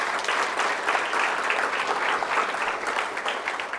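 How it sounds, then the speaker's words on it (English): At a university athletics hall of fame ceremony, an audience in a hall gives a steady, even round of applause, a dense wash of many hands clapping at a moderate distance without pause. "Please give them a nice round of applause."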